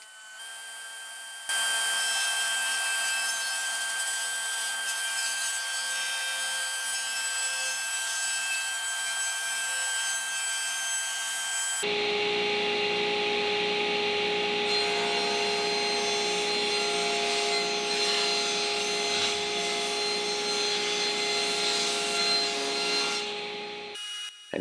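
Table saw ripping a long bevel on wood boards for a rustic barn beam mantel, a loud sustained whine with steady cutting noise that shifts pitch partway through as the blade works through the wood, no speech.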